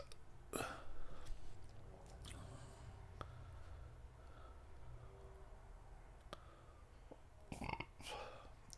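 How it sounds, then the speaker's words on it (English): Several faint, low burps at a quiet distance, separated by pauses, over a soft background hum. "I know, it's just burps now."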